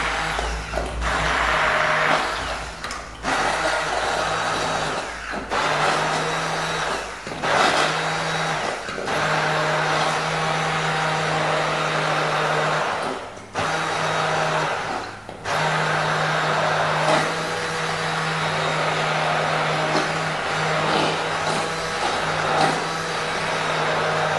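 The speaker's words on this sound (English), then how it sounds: "So, you can either put it in the blender or blend it like this." A kitchen blender purees a cooked sauce, its loud, close motor whirring in bursts that stop and restart several times, with short pauses between pulses.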